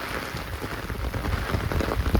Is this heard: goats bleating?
no